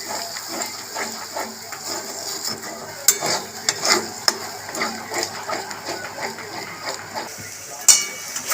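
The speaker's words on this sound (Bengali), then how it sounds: "এবার মশলাটাকে কষবো" Cashew-based masala paste for paneer butter masala, stir-fried in a pan: soft scraping and rubbing strokes with intermittent sharper taps of a spoon against the pan, fairly close and uneven in rhythm.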